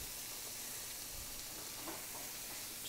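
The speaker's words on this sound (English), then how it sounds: "I have a fresh lemon that I'm going to use to deglaze the pan and scrape up all" Lemon juice hits a hot pan used to sear sea bass, giving a steady, even sizzling hiss throughout with a few faint clinks near the end.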